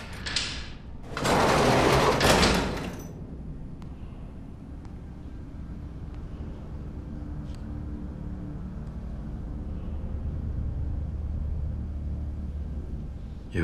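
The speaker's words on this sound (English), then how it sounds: "Put her on. Open the door." A spaceship door opens with a loud, broad rushing hiss lasting about two seconds, then gives way to a steady low mechanical hum and rumble of the ship's interior that continues to the end.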